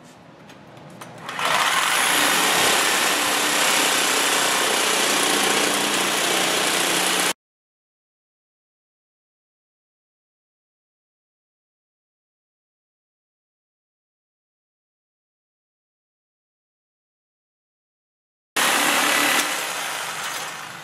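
A reciprocating saw cuts into a go-kart part, its motor buzzing loud and close for several seconds, cutting off into a long silence, then starting up again briefly.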